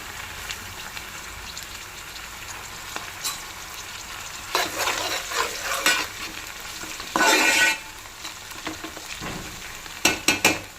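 Oil sizzles and crackles steadily as curry leaves fry in a pan, with louder bursts of spattering and stirring scrapes now and then.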